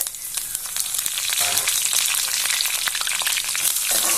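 Mustard seeds, dried chilies and curry leaves frying in hot sesame oil, a dense, loud, steady sizzle with crackling pops throughout, close up and with no talk.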